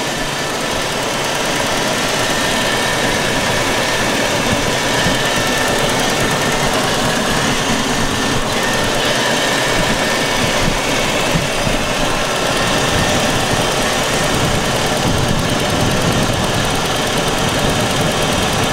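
The engine of a 2006 Tahoe 215 wake boat runs at a smooth, steady idle for the whole stretch, a constant low rumble with no talking over it.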